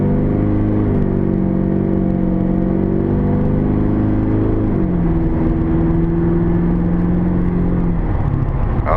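A tuned LB7 Duramax diesel truck drives along with a steady, loud cabin drone, its engine tone rising, then dropping at a shift before rising again, with no talking.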